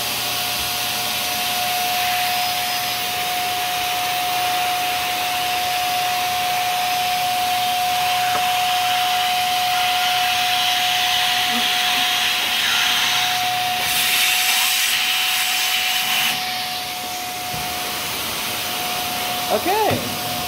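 A steady, loud suction hiss with a constant whine runs for the whole stretch as a vacuum draws tainted baby formula through a hose, swelling slightly near the end, with no voices over it.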